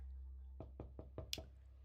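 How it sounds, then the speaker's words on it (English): A door is knocked on in Secret World Legends with five firm, evenly spaced raps, close and clear against a quiet background. "I've decided I want to tidy up the place since someone's knocking."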